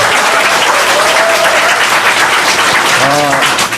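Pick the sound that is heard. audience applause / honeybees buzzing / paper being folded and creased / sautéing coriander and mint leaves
audience applause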